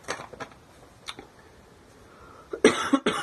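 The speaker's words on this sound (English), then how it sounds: "I wish I could stop coughing" Several sharp coughs, a few scattered early and then a louder, close burst of harsh coughing near the end.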